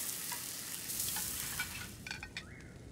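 Food cooking over a campfire in the video game Genshin Impact: a steady sizzling and frying hiss with light stirring clinks that fades slightly near the end, and a few small chimes over it.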